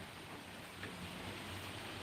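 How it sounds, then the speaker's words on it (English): Rain falls outside as a steady, faint hiss with no distinct drops or other sounds. "And it's raining too."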